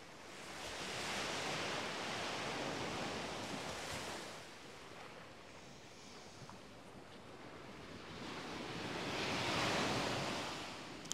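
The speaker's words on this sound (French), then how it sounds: "Laissez-vous bercer par ce doux bruit des vagues." Steady ocean surf washing onto shore, with broad swells rising and falling in waves of rushing noise and light wind over the microphone.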